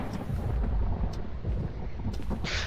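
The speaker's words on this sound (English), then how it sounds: "There's thunder?" Thunder rolling through a stormy night in the ghost-hunting horror game Phasmophobia, a deep, steady rumble that fills the whole stretch with no speech, ending in a brief bright hiss.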